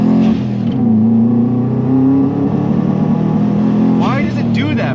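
A stage 2 Subaru WRX engine pulls loudly under acceleration, its steady droning note wavering as the power bogs, with a brief rising rev sweep near the end; a voice speaks over it.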